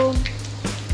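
Curry leaves hit hot oil already holding cumin seeds and asafoetida, giving a short burst of crackling, spitting sizzle with sharp pops up close.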